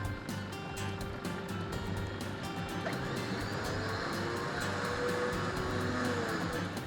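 A bogged vehicle is hauled free with a Slingshot winch on Tasmania's north east coast, a steady droning engine and mechanical strain running continuously at moderate level without a break and with no talk.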